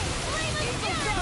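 A water spell cast in Tales of Arise, heard as a dense, steady rush of splashing, surging water like surf or a waterfall, loud and continuous throughout with no break.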